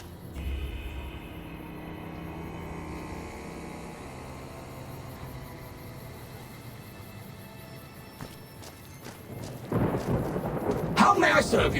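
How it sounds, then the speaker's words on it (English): Thunder rumbles in the video game Fallout New Vegas near the Repconn headquarters, a low, drawn-out rolling boom over faint ambient game sound that builds into a louder crackling burst near the end. "Again, I hear thunder, and there's no rain clouds about."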